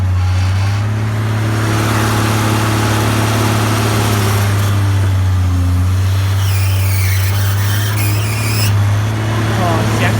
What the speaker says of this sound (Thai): เสียงเครื่องยนต์ดังมากครับ โคโมสูขึ้นชื่อเรื่องกระหึ่มอยู่แล้วครับ